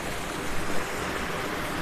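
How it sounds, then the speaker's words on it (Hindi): Steady broadband rush of a flowing mountain river in Uttarakhand, a continuous close hiss of moving water with no breaks and no voices. "यहाँ पर नदी है दोस्तों"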